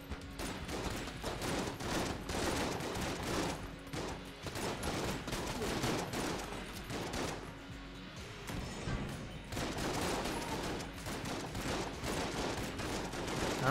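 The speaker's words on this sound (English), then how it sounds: "My shotguns are so slow." Rapid, dense gunfire from a shotgun-heavy arsenal in the bullet-hell game Enter the Gungeon, with repeated close blasts and crashes forming a near-continuous fusillade for most of the stretch.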